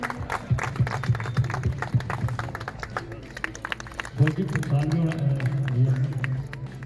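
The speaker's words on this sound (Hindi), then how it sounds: "प्लीज तालियां" Audience applause at a Republic Day celebration held by IBA, with scattered claps under ongoing talking and a fuller burst of clapping joining voices in the second half.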